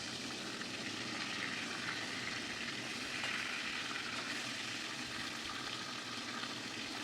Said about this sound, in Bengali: মাথাটা আমি আগে লাল লাল করে ভেজে নিই